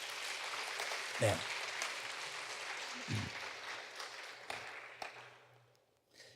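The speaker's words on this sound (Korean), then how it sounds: "우리 환영하는 박수 한번 하겠습니다" A short burst of clapping from a small group, quickly fading, with a voice speaking briefly over the room.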